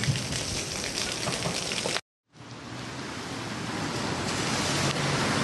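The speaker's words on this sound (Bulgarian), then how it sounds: "От целия град водата върви от запад на изток." Floodwater rushing through the streets of Plovdiv after rain, a loud continuous broadband roar of flowing water, briefly cut to silence before resuming and building again.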